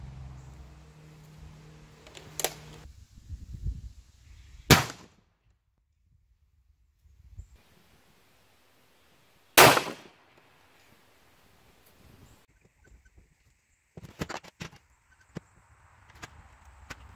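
A .458 SOCOM 400 grain subsonic buzzsaw round fired into ballistic gel, heard as a few isolated sharp reports separated by near silence.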